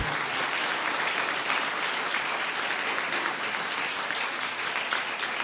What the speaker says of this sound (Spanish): quería invitarlos a darle un aplauso a Cristian